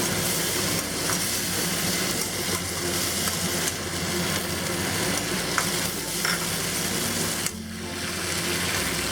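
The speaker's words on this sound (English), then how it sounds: "now we'll add the stock. Let that come up to a boil" Stock heating in a hot wok with beef, bitter melon and black bean sauce, giving a loud, continuous bubbling sizzle with occasional clinks of stirring throughout, and no talking.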